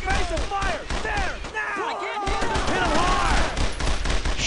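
Dense WWII infantry gunfire in Brothers in Arms during the Road to Hill 30 mission: rapid rifle and machine-gun bursts with whizzing rounds and thuds, loud and continuous, with soldiers' voices calling out underneath.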